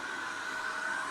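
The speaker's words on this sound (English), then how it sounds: "So I'm just going to start the vacuum here" A vacuum cleaner runs steadily, used for cleaning dust out of a Technics SA-EX310 stereo receiver; a continuous, close, even whir with a constant high whine and no talk.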